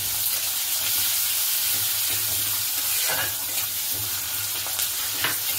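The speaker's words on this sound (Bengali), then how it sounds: "এটাকে ভালো করে আমি ভেজে নেব" Onion, tomato and green chilli frying in oil over tempered spices for a Bengali home curry, giving a steady close sizzle with a few scraping stirs and no voices.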